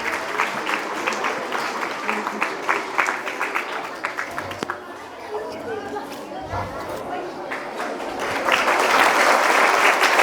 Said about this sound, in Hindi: ताली बजाएं प्रशांत पाल के लिए, ताली बजाएं।